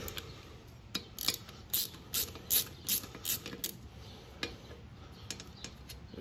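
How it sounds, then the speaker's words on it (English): Bolts are loosened and removed from a taper lock pulley, a series of close metallic ratcheting clicks and taps in an uneven rhythm, some louder bursts in the middle and lighter ticks after. "So take these bolts out."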